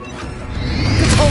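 A rising whoosh of the Expelliarmus spell in Hogwarts Legacy, swelling louder over a brief moment with a rushing, airy sweep into a low rumble.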